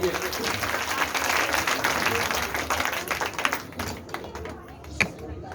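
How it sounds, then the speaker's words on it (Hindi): Applause from an audience at a Bhagavat Katha religious discourse, dense steady clapping that swells and then thins out toward the end. "जोरदार ताली होना चाहिए।"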